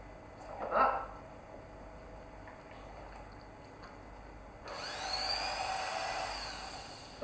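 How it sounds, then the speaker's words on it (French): Electric animal hair clippers switch on during veterinary desensitization training, a quiet steady buzz with a faint whine starting partway through after a short earlier sound. "J'ai pas attendu qu'il me regarde à nouveau pour lancer la tondeuse."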